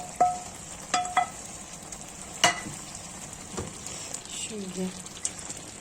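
Stuffed cabbage rolls simmer on a stovetop in their own juice with no added water, giving a faint steady sizzle broken by a few sharp clicks and light clatter.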